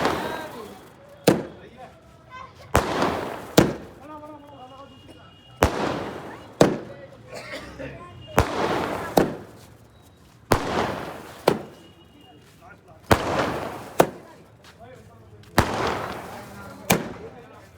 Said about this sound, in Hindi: आतिशबाजियों की एक दूर दूर तक गूंज जा रही है